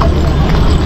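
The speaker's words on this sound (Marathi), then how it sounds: "हा माऊलीचा घोडा" Hooves of Mauli's horse clip-clop during a rainy palkhi procession at Lonand, with a short, steady run of beats close by, heard under the broadband wash of rain and crowd, with voices talking.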